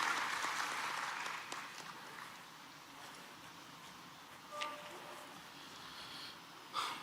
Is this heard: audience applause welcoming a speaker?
yes